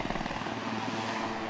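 Sea Sprite helicopter engine and rotor roaring loudly and steadily at close range, a continuous whine with rapid blade chop throughout, no voices.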